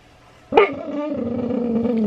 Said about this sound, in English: I gave Ben that walkabout toy, and so that way he could stop grumbling at me